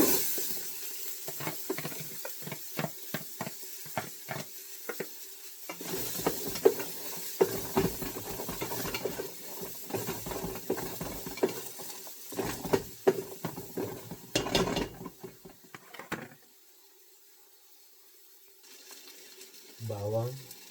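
Onions sautéing in a pan as the base for Filipino dinuguan, with a steady sizzle and repeated stirring clatter through most of the clip, brief speech in places, fading to near quiet near the end.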